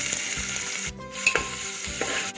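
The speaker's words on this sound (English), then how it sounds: "Now I will add onions, and we will just fry it for a minute." Onions frying in hot oil with jeera and turmeric, a close, steady sizzle broken by rhythmic stirring pulses and a few spatula clinks.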